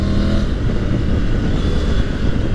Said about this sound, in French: vous pouvez voir que là dès 4000 tours quand on réaccélère